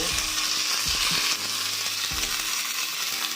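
Curry leaves crackle and hiss in hot oil while tempering for tomato rasam, a loud, continuous close sizzle with a few low pops and no speech.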